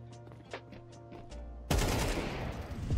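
AK rifle fire in Counter-Strike 2 opens with a few sharp single shots, then a loud sustained burst of rapid automatic gunfire from close by.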